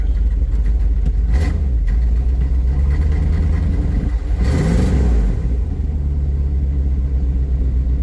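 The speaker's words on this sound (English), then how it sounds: "once it idles back down, it'll sit there about 500 RPM and just sit there and chug like it's missing 2 or 3 cylinders" A squarebody truck engine with cracked exhausts rumbles loudly and unevenly at a rough, chugging idle, briefly revs up near the middle, then settles back into the lumpy low idle.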